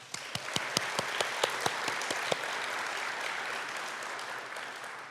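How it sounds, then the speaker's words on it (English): An event crowd at a draft-day gathering claps for a corporate sponsor, a few sharp, close hand claps punctuating a broad, sustained wash of applause that gradually fades. "please give a round of applause for our Hall of Fame sponsor"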